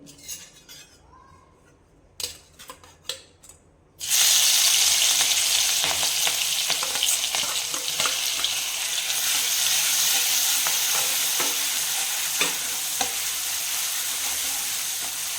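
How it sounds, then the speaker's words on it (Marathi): Ground green chillies hitting hot ghee burst into a loud, steady sizzle after a few clinks of utensils, the frying staying strong and continuous with occasional stirring taps. "तूप छान तापलंय तर त्यामध्ये मी आता मिरची परतून घेते"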